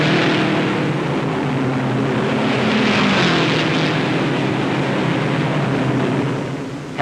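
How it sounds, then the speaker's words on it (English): Supercharged V8 Novi race car at the 1957 Indianapolis 500, a loud, sustained engine roar with a broad droning tone that swells slightly mid-pass, then fades a little at the end. "the V8 supercharged Novi edges closer"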